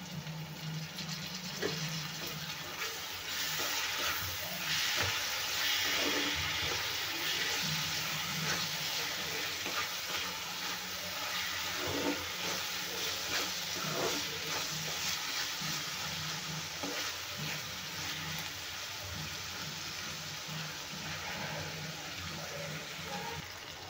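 Three medium tomatoes frying in hot oil in a home kitchen, a steady close sizzle and crackle with occasional stirring scrapes, continuing evenly throughout.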